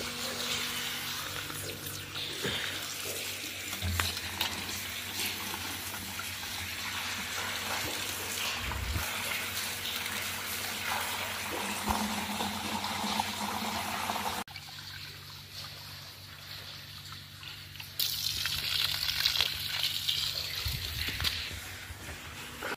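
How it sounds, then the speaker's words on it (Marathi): Water from a tap, fed by a running pump motor, trickles and streams steadily into a farm tank in a field. The flow is continuous and fairly soft, with a low motor hum under it. The tone brightens and hisses more toward the end. "मोटर चालू आहे."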